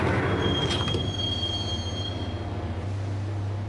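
Subway train ride in the video game Max Payne: a steady low rumble of the carriage with sharp, sustained wheel squeal early on that fades, running continuously and fairly loud throughout.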